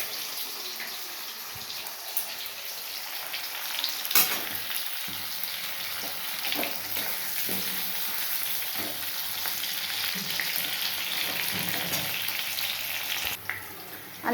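Eggplant frying in hot oil in a pan after potatoes, a steady sizzle with occasional clinks and scrapes of stirring, close and continuous with no talking.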